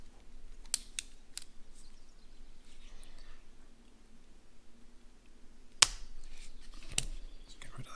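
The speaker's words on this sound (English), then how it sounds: "I'm going to cut off the excess using the wire cutters" Wire cutters snip off excess wire on an automotive job, giving a few sharp, quiet clicks early on and two crisper snaps later against a faint background hum.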